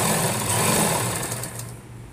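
A sewing machine stitching a midi dress, a close, steady motor hum with rapid needle chatter that eases off slightly toward the end of the brief run.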